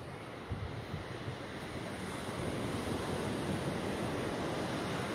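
Sea waves wash steadily onto San Pedro beach in Ivory Coast, a continuous broad roar of surf mixed with wind buffeting the microphone, with no talk.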